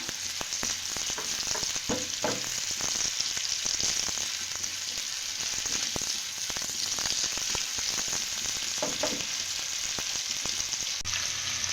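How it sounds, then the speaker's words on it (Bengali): Chopped onions and green chillies sizzle in hot oil in a steady hiss, broken by frequent scraping taps of a spatula stirring the pan; no voices. "একটু নেড়ে চেড়ে পেঁয়াজটাকে আমি ভেজে নেব"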